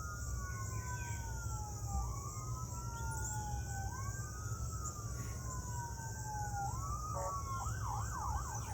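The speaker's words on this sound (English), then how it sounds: "It sounds like a fire truck though," Fire truck siren far in the distance, a steady rising and falling wail that repeats every couple of seconds and breaks into a quick yelp near the end, over a low constant background rumble.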